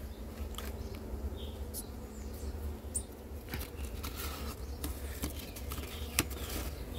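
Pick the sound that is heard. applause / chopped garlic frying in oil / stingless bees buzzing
stingless bees buzzing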